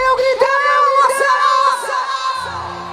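A concert crowd at a live June festival show in Mossoró yells and cheers loudly, a dense sustained roar of many voices with whoops rising over it, continuous for a few seconds before settling.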